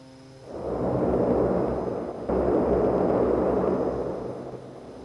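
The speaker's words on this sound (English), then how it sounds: "This is the reverse thrust on my joystick." Reverse thrust on a DHC-6 Twin Otter in the X-Plane 11 flight simulator comes as a loud, broad roar that swells in, surges again midway, then eases off slightly, with no talking.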